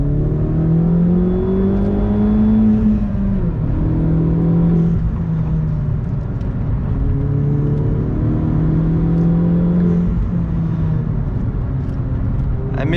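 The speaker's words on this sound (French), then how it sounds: "le petit soufflement quand tu relâches les gaz, vraiment ça donne du plaisir de conduite" A 2011 Opel Corsa GSI with a stage 1 tune drives along, its engine droning steadily and loudly as revs rise and fall through several gear changes, with a soft blow-off whoosh when the throttle is released.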